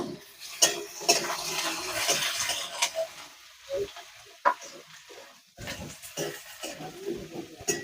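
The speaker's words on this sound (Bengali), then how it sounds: "বেগুনটা দিয়ে আর একটু নেড়ে নেবো" Eggplant goes into a frying pan and is stirred, giving soft sizzling and intermittent scraping and clinks of a utensil against the pan. The sounds come in uneven bursts with quiet gaps between them.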